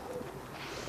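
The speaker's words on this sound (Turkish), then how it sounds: "Bakın bu bir güvercin." A pigeon of a large breed cooing softly, a low murmuring coo, faint against steady background noise.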